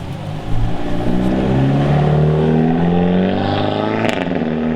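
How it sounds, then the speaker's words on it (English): A Hyundai Elantra N accelerates hard past the listener, its loud engine note climbing steadily in pitch as it nears and goes by, with a brief clatter near the end. "That was an Elantra N, by the way."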